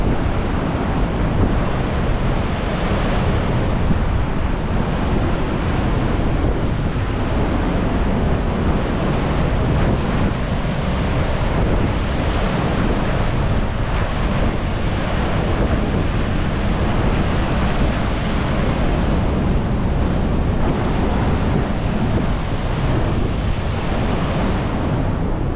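Sea waves surge and break steadily on a shore by an outdoor seaside cooking spot, a continuous loud wash of surf with gusts of wind buffeting the microphone throughout, no voices.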